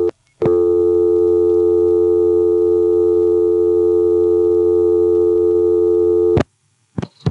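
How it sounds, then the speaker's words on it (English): A steady dial tone on a 1976 NX1 crossbar telephone exchange in New Oxford, Pennsylvania, holding loud and unbroken for about six seconds before cutting off, followed by a couple of brief clicks, with no voices. "Let's let the dial tone time out and find out."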